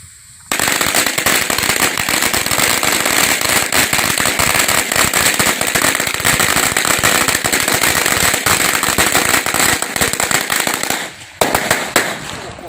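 A long string of one thousand firecrackers set off at a Thai temple, a dense, loud, rapid crackling barrage that runs continuously for about eleven seconds, then breaks into a few final pops.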